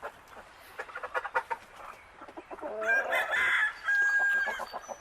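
Backyard chickens cluck in quick bursts, then one breaks into a loud drawn-out crow close by, other birds clucking around it.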